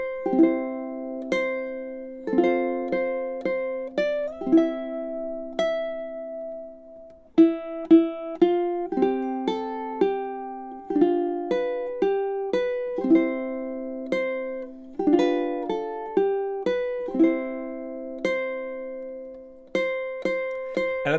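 A ukulele chord melody played through a full verse, with plucked chords and melody notes in a steady, gentle rhythm, each strum ringing and decaying, played solo with no talking.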